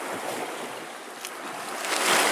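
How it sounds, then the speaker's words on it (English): Waves washing against the shore at Pictured Rocks, Michigan, with gusting wind, a steady broadband rush that swells louder toward the end, alone without voices. "you see the waves are starting to get a little bigger. The wind is picking up."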